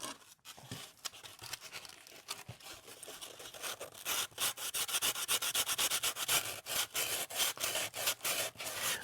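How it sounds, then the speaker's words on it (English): Sandpaper rubs the edges of a large six-foot jack-o'-lantern in quick, repeated rasping strokes that grow louder and more rhythmic, up close with no talk. "So what we're doing is just getting the sandpaper"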